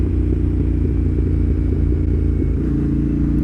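A Yamaha Tenere 700 World Raid motorcycle rumbles steadily while riding, a loud, close, throbbing low engine note with pulsing firing rhythm and no one talking.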